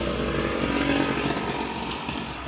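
Revving motorcycle engine from the mobile racing game Traffic Rider, a steady loud buzzing drone holding throughout with slight pitch wavers, no speech.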